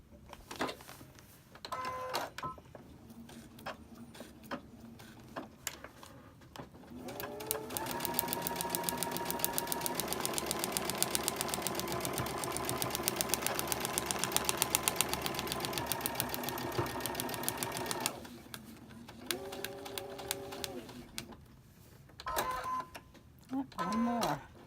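Sewing machine stitching a paper-pieced quilt block, a close rapid mechanical whir in several bursts with one long continuous run in the middle, with talking in the pauses.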